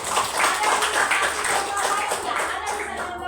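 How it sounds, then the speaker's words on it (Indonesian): Classroom applause for a student, a dense steady patter of many children clapping hands throughout, fairly loud and continuous with a murmur of voices mixed in. "berikan tepuk tangan untuk Alvaro."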